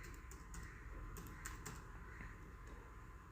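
Keys clatter on a computer keyboard in quick, uneven bursts, close and fairly quiet, with no one speaking.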